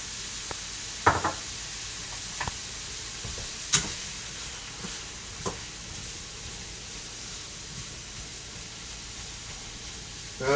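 Green beans and potato frying in oil in a pan, a steady low sizzle broken by several sharp clinks of a utensil against the pan, close by with no voices.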